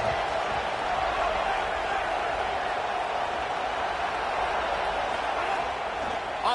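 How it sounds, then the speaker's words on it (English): A steady roar of a stadium crowd in an NCAA football video game fills the whole stretch, loud and continuous with a broadcast voice talking over it. "This crowd ready to make its presence known."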